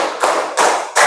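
A classroom of students claps in unison, three sharp group claps spaced evenly, loud and close with brief quiet between them.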